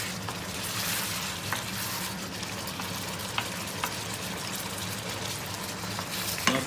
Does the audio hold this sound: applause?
no